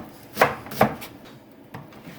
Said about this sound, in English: Chopping the onion